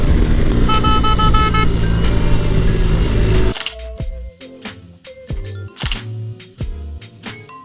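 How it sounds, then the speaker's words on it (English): A BMW R18 B cruiser motorcycle's horn blares in a few sharp, loud toots, separate from one another over the idling bike, right after a stretch of steady, loud engine and road noise. "Horn works pretty good."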